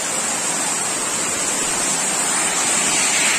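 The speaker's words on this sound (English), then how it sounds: "look at the waterfall" Tyrchi Falls in Meghalaya pours down as a loud, steady, broadband rush of water that fills the whole scene without pause, with no voices over it.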